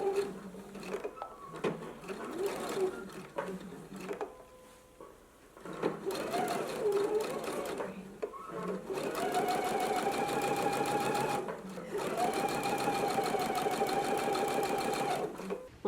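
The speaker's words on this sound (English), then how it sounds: "we're going to stitch in a 1/4 of an inch seam allowance, so back stitch at the beginning and at the end" A sewing machine runs in bursts stitching a quarter-inch seam with backstitching, a steady rapid mechanical whir that stops and restarts, with brief talk in between.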